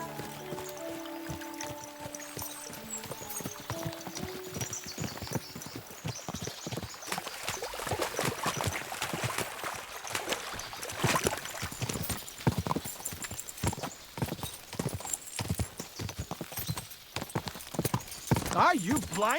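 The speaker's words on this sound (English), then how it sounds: "As soon as we cross the stream, we'll give the horses a gallop again." Horses gallop in the video game Kingdom Come: Deliverance II, a steady rapid clip-clop of hooves running throughout with voices talking over it and a brief whinny near the end.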